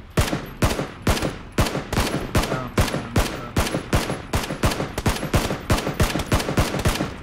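Rapid gunfire in the video game PUBG, a steady volley of sharp shots repeating about three times a second for several seconds at moderate loudness.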